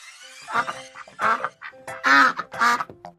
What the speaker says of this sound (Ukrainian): качка.